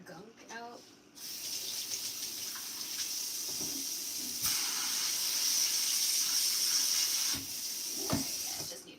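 Lotus root being agitated in its soaking water, a running, hissing wash of water at a faucet or sink with a few knocks and splashes, fairly close, with brief voice sounds at the start and end.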